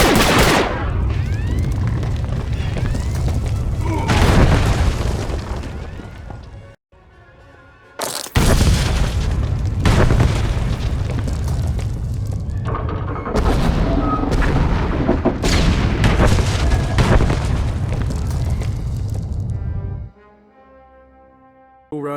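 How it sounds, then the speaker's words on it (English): Massive explosion setting off a chain reaction in a planet's core in the SWTOR game, a long, loud rumbling roar of booms that cuts out briefly, resumes, then drops away near the end. "Lambda says the explosion triggered a chain reaction in the planet's core."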